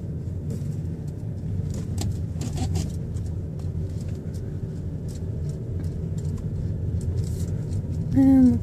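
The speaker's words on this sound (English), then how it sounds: "Car passing." A single car passes by a park with swings and a baseball field, a steady mid-low rumble of road noise that holds throughout at moderate distance, alone without talk.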